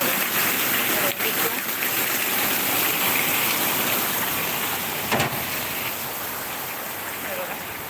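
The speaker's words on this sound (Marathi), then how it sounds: "इतका पाऊस पडतोय बापरे" Heavy monsoon rain in Mumbai pouring steadily with rushing, flowing floodwater, a dense wash of noise, with a couple of brief knocks.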